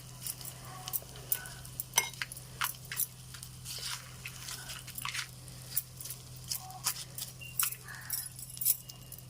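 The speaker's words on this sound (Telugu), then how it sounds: "దీంట్లో చక్కగా చింతకాయ పచ్చడిలో ఈ రకంగా చక్కగా తాలింపు పెట్టేసుకోవాలి" Tempering sizzling into a tamarind pickle (chintakaya pachadi) during cooking: a steady frying hiss with scattered crisp crackles and spoon scrapes, close and moderately loud, over a faint constant hum, with no talking.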